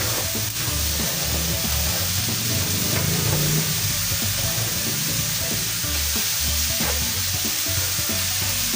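Ground pork sisig and white onions stir in a hot pan, a continuous close sizzle with intermittent scraping of the utensil against the pan, no one speaking.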